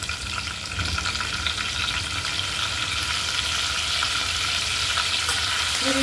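Mustard seeds and curry leaves sizzle steadily in hot oil for a matki sprouts curry, a continuous dense crackle and hiss close up with small pops and no talking.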